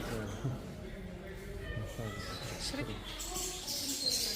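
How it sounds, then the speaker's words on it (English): Birds call and chirp in the aviary at Artis Zoo in Amsterdam, a mix of faint, scattered tweets heard under nearby voices and background bustle. "This is the birds. Beautiful birds."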